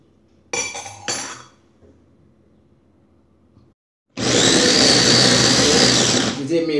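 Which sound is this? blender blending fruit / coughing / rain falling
blender blending fruit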